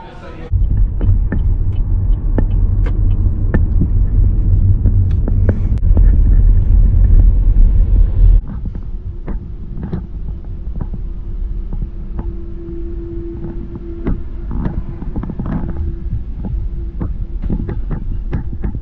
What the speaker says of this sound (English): So we're just driving onto the Euro shuttle at the moment